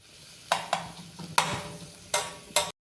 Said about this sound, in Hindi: इन दोनों को डालकर हम अच्छी तरह से भून लेते हैं